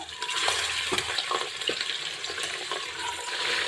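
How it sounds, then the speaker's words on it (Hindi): Mutton sizzles and crackles in a hot pressure cooker over low to medium flame while it is stirred, a steady close hiss with occasional scraping, no voices. "अब ये जो मटन की पीसेज है ना, इनको हम सब कुकर में डाल दे रहे हैं।"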